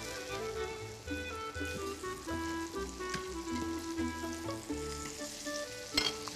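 Fish fries in a pan with a bright, crackling sizzle and stirring sounds, heard beneath quiet background music, with a sharper spatter burst near the end.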